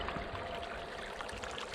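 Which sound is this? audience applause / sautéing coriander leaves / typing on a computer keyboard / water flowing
water flowing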